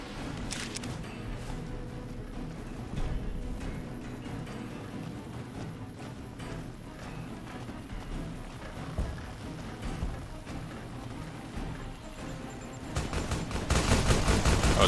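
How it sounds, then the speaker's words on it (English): Anti-material rifle fire in Fallout: New Vegas, mixed with the crackle of a battle. Sharp, heavy reports come at irregular intervals over a dense bed of distant gunfire, growing louder toward the end. "Anti-material rifle."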